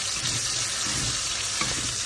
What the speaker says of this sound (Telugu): ముందుగా ఆలు వేసుకోవాలి. మస్టర్డ్ ఆయిల్ ఇది వేగాలి బాగా.